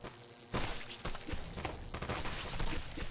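Zombie enemies fire in the video game OMG Zombies, a dense burst of rapid gunshots and thumps crowding together over a few seconds, loud and chaotic, with no voices.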